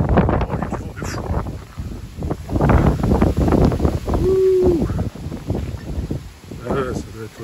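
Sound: strong wind blowing outdoors

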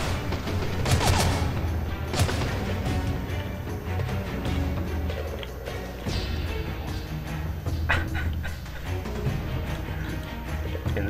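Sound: enemy gunfire in the video game Mark of the Ninja

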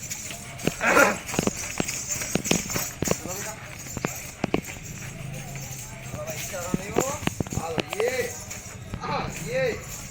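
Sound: horse hooves clip-clopping

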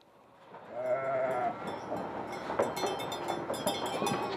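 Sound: sheep bleating

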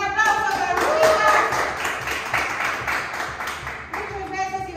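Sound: applause, clapping for a dancer

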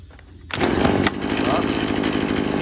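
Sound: chainsaw pull-started

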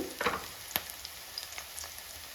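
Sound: green chillies, onions and mint frying in a pan

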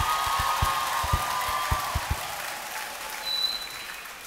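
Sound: audience applause for the choir students at a concert

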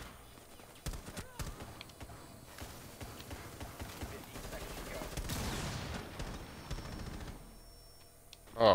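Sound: gunfire in a video game

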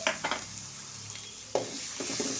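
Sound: green chilies and onion frying with mustard seeds

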